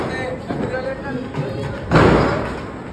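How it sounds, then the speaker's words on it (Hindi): A Diwali firecracker goes off with a sharp, loud bang that decays quickly, following a few softer thumps amid outdoor festival noise. "ये चलाने लगे हैं पटाखे।"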